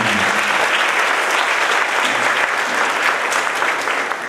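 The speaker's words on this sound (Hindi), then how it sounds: "असीं उन्हां नूं भी जोरदार ताली बजा के जी आया" A church congregation claps warmly to welcome visiting priests from neighbouring parishes, a loud, sustained burst of many hands that carries evenly and tapers slightly at the end.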